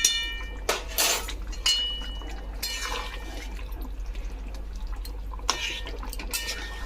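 A spoon stirs chicken curry with boiled potatoes and ground garam masala in a pot, giving several sharp metallic clinks against the pot at irregular intervals over a low steady hum, with no talk.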